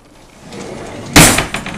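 A kitchen drawer in a Florida house slides and slams shut with a loud, sharp bang and a brief rattle afterward, close and prominent.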